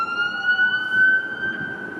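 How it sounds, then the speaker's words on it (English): An ambulance siren wails steadily at moderate distance on Lawrence Avenue West in North York, Toronto, its tone holding high with slight pitch shifts, over a low rumble of traffic. "How's that to start a video with an ambulance responding?"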